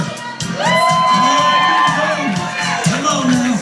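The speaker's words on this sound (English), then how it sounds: "Let's hear a loud cheer." Crowd cheering, whooping and shouting at a strawberry festival corn dog eating contest, with children's voices among the loud, sustained yells that swell and fade.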